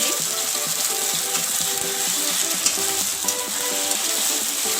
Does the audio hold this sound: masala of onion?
yes